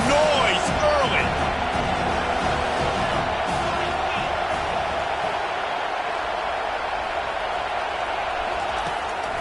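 A packed stadium crowd at a football game roars in a continuous, loud wash of noise with scattered whoops and cheers, while a commentator talks over it throughout.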